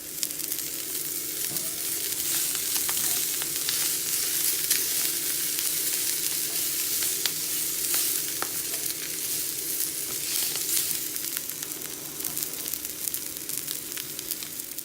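Food fries steadily in a pan while dinner is cooked at home: a continuous, even sizzle with faint stirring scrapes and occasional small pops, heard up close for about fifteen seconds without talk.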